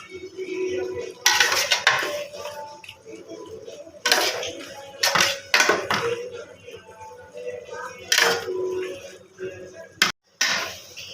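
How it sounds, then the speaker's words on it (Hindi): Cauliflower, potato, pea and tomato curry stirred in a pot, with loud intermittent metal clanks and scrapes of a spoon against the pot between quieter gaps. "बस इसको 10 से 20 मिनट तक इसकी भुनाई करूँगी ताकि टमाटर अच्छे तरीके से गल जाए।"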